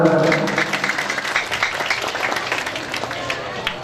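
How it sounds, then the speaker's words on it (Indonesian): An audience at a Pandan Maninjau community homecoming gathering claps in a scattered burst of sharp hand claps, loud at first and thinning out, with a voice briefly audible at the start. "Tepuk tangan anda."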